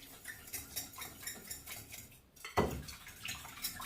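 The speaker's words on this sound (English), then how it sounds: "So we just stir a little bit." Wine stirred into cookie dough in a bowl, faint scraping and clinking of a utensil against the bowl with a soft wet slosh, quiet and close.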